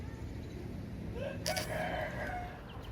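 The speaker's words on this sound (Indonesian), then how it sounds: "Maka kali ini soundtrack video kami hanyalah suara ayam dan suara kicauan burung." A rooster crows once, clearly and fairly close, with a rising and then sustained call over faint rural background noise. No voices are heard.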